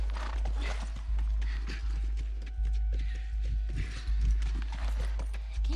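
A horse in The Last of Us video game walks with steady clip-clopping hooves, close and continuous throughout, with a low rumble underneath.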